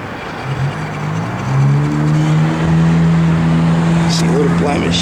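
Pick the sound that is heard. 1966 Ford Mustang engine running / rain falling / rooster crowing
1966 Ford Mustang engine running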